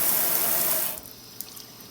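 Water runs from a leaking Delta Savile faucet stuck at a 90-degree handle position, a steady broadband rush that stops abruptly about halfway through, leaving a faint quiet trickle with one small tap-like drip.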